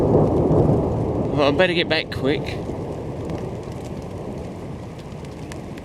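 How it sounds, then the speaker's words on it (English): Thunder rumbles over steady rain at an outdoor campsite in Creswick, a loud, low roll that swells and fades while someone speaks briefly over it. "and here's the rain now."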